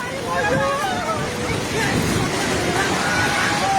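A flooded river in Nepal rushes past at close range, risen high and threatening nearby houses and shops, a loud constant roar buffeted by wind with excited voices talking over it.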